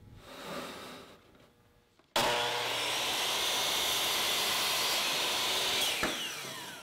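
A power saw cutting wooden molding on a router setup, starting abruptly with a loud steady whining roar that holds for several seconds after a quieter lead-in.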